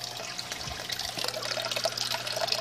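Water trickles and gurgles quietly through a T siphon made from 1/2 inch PVC and landscaping tubing in a small aquaponic setup, a steady close-up dribble with soft splashes.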